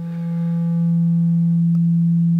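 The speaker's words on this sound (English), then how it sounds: "a triangle input turns into a nice sine wave output" A steady, pure sine tone from a disting dual waveshaper module fed a triangle input, holding a constant pitch and loudness with faint harmonics fading early and no speech.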